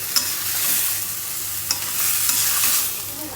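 Rajma and tomato are stirred and sautéed in a pan. A steady close sizzle of frying runs throughout, with occasional sharp clicks from the utensil scraping the pan, and no talk.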